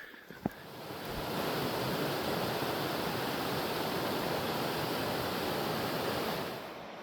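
Dense, steady rush of a river flowing near Mount Olympus, broadband water noise that fades in after a short click, holds evenly for several seconds, then tapers off.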